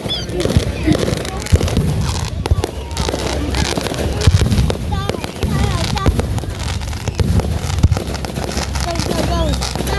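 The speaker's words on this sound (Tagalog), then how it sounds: "Fireworks, Sophia?" A Fourth of July fireworks display at Skydive Chicago in 2023 crackles and booms continuously, with dense overlapping bursts and pops under wind and crowd chatter throughout.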